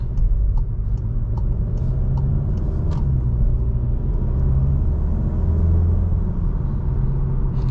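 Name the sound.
VW Golf GTI turbo engine spooling up while driving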